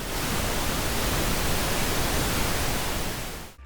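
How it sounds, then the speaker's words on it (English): Steady pink noise test signal, a dense even hiss spread across the whole range with weight toward the lows, holding at constant loudness for over three seconds before cutting off abruptly. "Let me give you an example of pink noise."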